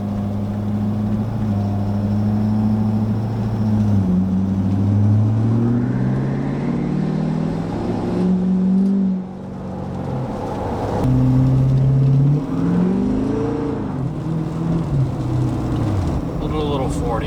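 A 6.7 Powerstroke diesel truck accelerates at half throttle, a loud low rumble climbing steadily in pitch through several gear shifts, heard from inside the cab with people talking over it.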